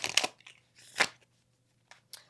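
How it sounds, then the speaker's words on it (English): Tarot cards being shuffled by hand in a quiet room, a few short, soft riffling bursts separated by brief pauses, close and faint. "let's do one more shuffle"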